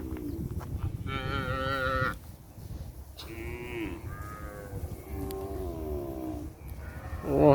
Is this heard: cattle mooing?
yes